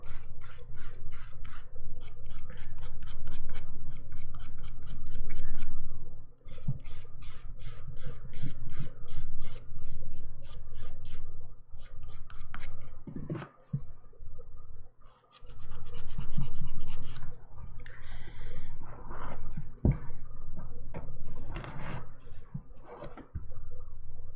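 Nails are filed with a 180 grit file during a dip powder manicure, producing rapid, rhythmic rasping strokes up close, in long bursts separated by brief pauses.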